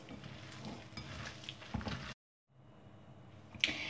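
Meatball mince mixed with semolina is kneaded by hand, making soft, close squelching and slapping sounds that stop suddenly before faint movement resumes.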